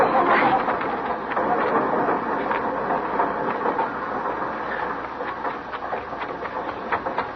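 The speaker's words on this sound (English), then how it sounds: "Get on the train, Flora." A train rumbles and clatters steadily in an old-time Western radio drama sound effect, loud at first and easing slightly as it pulls away.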